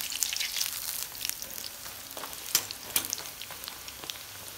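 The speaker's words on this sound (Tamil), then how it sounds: "எண்ணெய் நல்லா சூடான உடனே மீடியம் ஹை ஃப்ளேமில் வச்சு பொரிச்சு எடுக்கும்போது சரியாக இருக்குங்க" Moong dal pakoda deep-fry in hot oil over a medium-high flame, a close bubbling sizzle with scattered crackling pops that swell and fade, and no one speaking.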